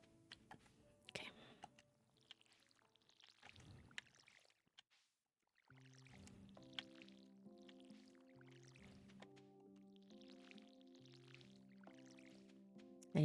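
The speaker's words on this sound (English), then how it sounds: "I need to upgrade this watering can because having this big of a farm you have to water takes up so much of your energy." A watering can pours onto crops in a cozy farming video game, giving soft repeated splashing drips set against gentle looping game music and a quiet voice.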